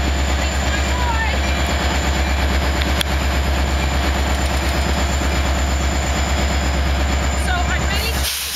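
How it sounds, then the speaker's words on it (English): A passing train with steady rumbling and rhythmic clickety-clack of wheels over rails, loud and continuous throughout, with a voice speaking faintly beneath the noise. "This is the train that was named after my son, who loved trains."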